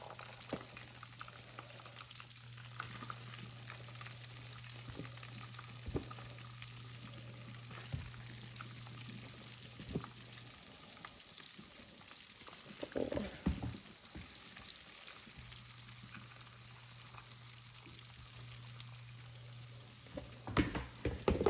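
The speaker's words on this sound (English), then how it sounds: "Now we're going to add our next batch cube steak to the pan." A batch of cube steak fries in pan drippings over medium-high heat, giving a faint, steady sizzle with a brief burst of crackling and clatter midway.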